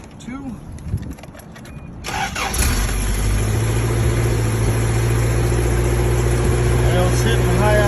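A 1981 Toyota pickup engine cranks and catches on a cold morning around 40 degrees, then settles into a loud, steady high idle close by, with brief talk at the start before the engine fires.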